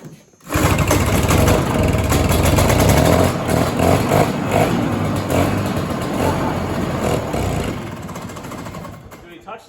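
A 1960s Ski-Doo Twin-Track snowmobile engine catches and runs loud and rough, rattling close by for several seconds before easing slightly, with voices talking over it.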